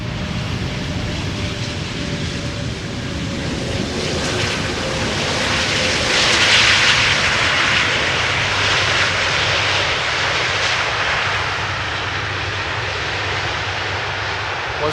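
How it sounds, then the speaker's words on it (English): A large Airbus A330-300 jet airliner's engines roar steadily overhead at moderate distance on arrival at Schiphol, swelling slightly midway, with wind noise and no talking. "Air Canada, arrival from Montreal, A330-300."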